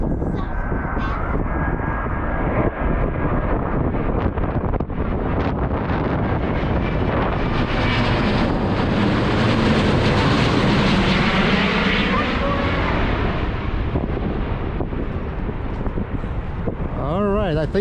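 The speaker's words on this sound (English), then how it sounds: "For the last plane for today, it's going to be A350. It's only got 2 engines, but I think it's kind of sizable." An Airbus A350 twin-engine airliner passes overhead outdoors on a cold, windy day. Its loud, broad engine roar swells to a peak and then recedes, with wind buffeting the microphone and a brief voice near the end.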